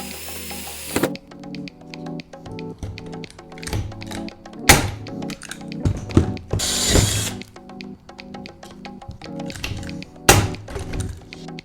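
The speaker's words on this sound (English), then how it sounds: "I'm just gonna rivet it." Repeated riveting with a rivet gun on a costume build, a series of sharp mechanical clicks and clunks with ratcheting squeezes and a couple of louder snaps, close up with no talking.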